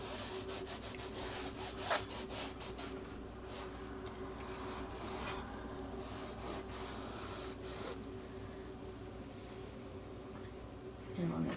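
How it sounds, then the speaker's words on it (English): Painted wood is rubbed with a baby wipe in a continuous soft, scratchy friction, close and steady, with a few brief ticks along the way. "Just rub it with a baby wipe, giving it a little bit more pizzazz here."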